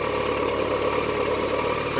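A 1998 BMW K1200RS motorcycle engine idles steadily with a close, slightly rattly mechanical hum, continuous and unchanging.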